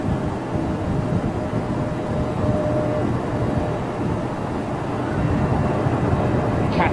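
A Qatar Airways Boeing 777 arrives at London Heathrow at sunrise, its engines a loud, steady, low broadband roar that holds near and constant for several seconds.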